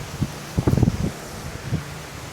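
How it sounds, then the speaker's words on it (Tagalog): Gusty wind roars across the microphone at a campsite in the Philippines, with rumbling buffets and rustling bursts rising and falling against a constant windy hiss. "Lakas ang hangin!"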